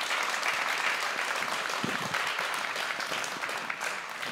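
Audience applause at an orchestra concert in Gwacheon: loud, continuous clapping from a seated crowd, even and sustained for several seconds with no talk over it.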